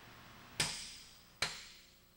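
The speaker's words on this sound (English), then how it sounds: "I'm going to punch a hole." Two sharp, close metallic strikes about a second apart as a punch is driven into a car body panel, each with a short ringing decay, with no talking.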